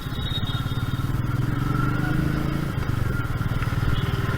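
The engine of a Royal Enfield Meteor 350 motorcycle runs at a steady, even thump with a smooth low putter, close and continuous, with faint background clatter.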